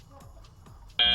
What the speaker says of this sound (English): Here comes the buzzer.